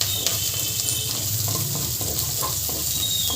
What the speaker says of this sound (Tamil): இப்போ இதை ஃபஸ்ட்டு வதக்கிக்கோங்க.